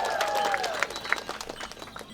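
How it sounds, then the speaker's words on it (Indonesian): Applause from a crowd at a Dayak customary ceremony in West Kalimantan, a scattered patter of clapping under a bright sustained tone, with a voice talking through it. "Tepuk tangan untuk Bapak Susanto."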